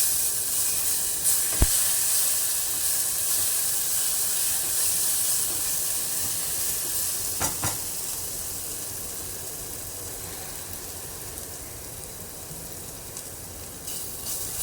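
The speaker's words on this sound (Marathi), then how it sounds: "लसूण व्यवस्थित तेलावर परतून घेतला" Crushed garlic frying in oil in a pan for a Maharashtrian val bhaji, a soft continuous hiss and sizzle with a couple of faint utensil clicks, steady and close.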